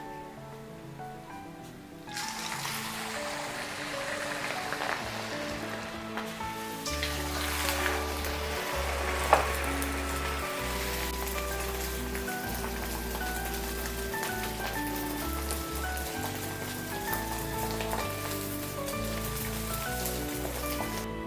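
Ney pathal, a fried Malabar flatbread, crackles and sizzles steadily in hot oil in a pan, with a loud continuous frying hiss that rises once the dough goes in and stays even throughout.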